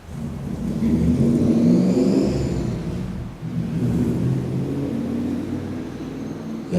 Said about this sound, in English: Let the sounds come and go like that motorcycle.